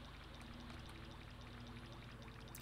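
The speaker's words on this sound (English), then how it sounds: "Big water sounds." Flowing, pouring water in the Yume 2kki game world, a steady trickling stream over a low looping tone, continuous and moderately close.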